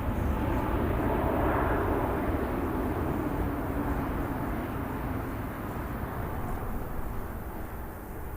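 A Turkish Airlines airliner at Birmingham Airport, a steady low jet rumble that is moderately loud at first and fades gradually as it moves away, with no voices.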